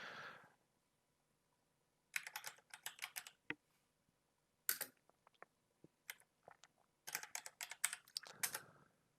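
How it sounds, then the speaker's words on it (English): Bursts of quick, close keystrokes on a computer keyboard typing a netstat command in Parrot OS Linux, clattering runs separated by pauses and a few lone clicks, with no talking. "what I typed in there was a command netstat space hyphen tulpn"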